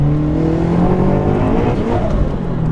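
A turbocharged Subaru BRZ/Toyota 86 engine revs loudly and close by, a deep, steady droning growl that holds through the moment with slight rises in pitch.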